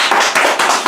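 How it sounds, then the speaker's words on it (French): A small group claps together in a room, several distinct loud rhythmic bursts of hand claps in quick succession, close and clear with no talk over them. "On peut les applaudir un peu?"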